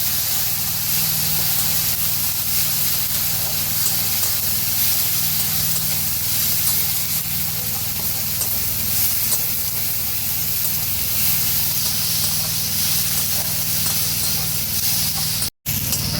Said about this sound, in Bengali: দুটো তিনটে কুচানো কাঁচা লঙ্কা দিয়ে এবার ভালো করে আমি একটু কষে নেবো